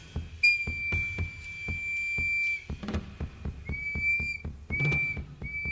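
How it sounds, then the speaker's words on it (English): A steady, high whistle at a cedar-chip fire ceremony runs in long sustained tones, broken by brief gaps and shifting slightly in pitch, over a rhythm of sharp percussive knocks. "The whistle is kind of annoying, really"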